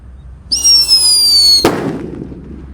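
A Whistling Thunder firecracker set off in a fairly deep hole in the ground gives a loud, steady descending whistle for about a second, then bursts in one sharp bang that fades into a short rumbling tail.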